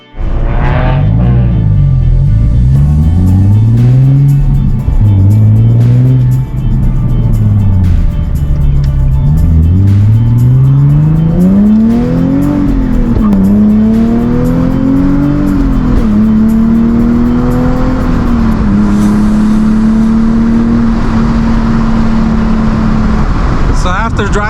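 A Nissan with a thermostatic oil sandwich plate being driven normally, its engine note rising and falling through gear changes as it accelerates, loud and close inside the car for the whole stretch.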